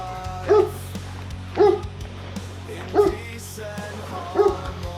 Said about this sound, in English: They're barking at you, aren't they?